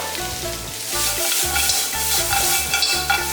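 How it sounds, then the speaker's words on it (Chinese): Lamb ribs, already deep-fried, stir-fried with cumin in a wok, sizzling steadily under rhythmic scraping and clanking of a spatula against the pan, close and fairly loud throughout. "炒香后，把炸好的羊排倒进去，倒入孜然料"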